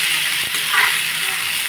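Beans and potatoes fry in oil in a wok, a loud, close, continuous sizzle and hiss with light stirring scrapes as the vegetables are mixed.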